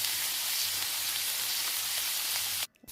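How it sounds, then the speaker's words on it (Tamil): Onion, dried red chili and urad dal sauté in a hot pan, a steady bright sizzle with a fine hissing crackle running close and even, then cutting off abruptly near the end. "வெங்காயம் காஞ்ச மிளகா உளுந்து எல்லாமே நல்லா வதங்கினதுக்கப்புறம் கொஞ்சம் சால்ட்டு, கொஞ்சம் மஞ்சள்தூள் போடணும்"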